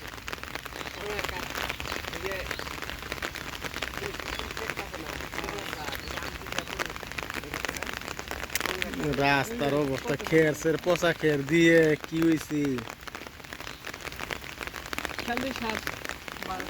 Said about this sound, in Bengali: বৃষ্টি বৃষ্টি নামেছে